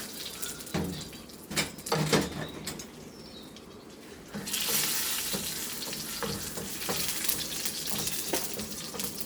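Mustard seeds and dried red chillies sizzle and crackle steadily in hot oil, with scattered pops and a louder, denser frying hiss swelling midway, close and alone with no talk.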